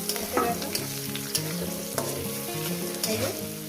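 A poppy seed omelette mixture with onion and salt fries in a pan, giving a steady close sizzle with light stirring, and a musical backing runs underneath.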